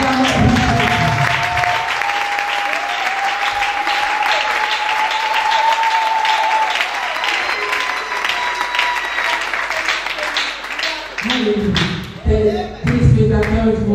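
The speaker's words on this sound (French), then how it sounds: "Acclamons." A church congregation applauds loudly and continuously for about eleven seconds, a dense close wash of clapping, with voices and music rising near the end.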